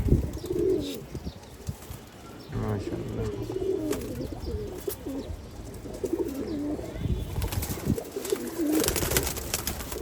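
Pigeons coo repeatedly in low, throaty rolls in a house loft holding about fourteen birds of sealed, game-flown stock, with bursts of wing flapping and a faint voice in the background.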